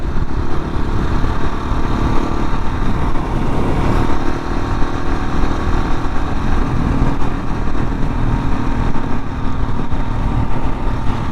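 Steady, loud engine drone from a KTM 690 SMC motorcycle being ridden, a continuous single-cylinder hum with wind noise that holds at a constant level throughout and no talking.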